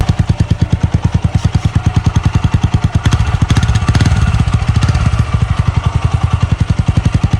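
A TVS Apache RTR 160 4V motorcycle with its stock exhaust, plugged with a bung, idles loudly and close with a rapid, even thumping pulse, briefly swelling with a throttle blip midway before settling back to idle.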